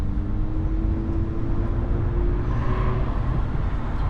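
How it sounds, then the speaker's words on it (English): Highway traffic drones steadily from inside a moving vehicle on toll roads around Chicago. A loud, continuous road and tire rumble carries a faint engine tone, with no talking. "I'm giving you some authentic traffic noise."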